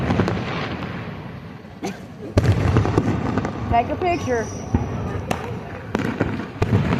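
Fourth of July fireworks go off as sharp crackling bursts and pops at irregular intervals, with louder booms from the midpoint on, while people talk nearby throughout.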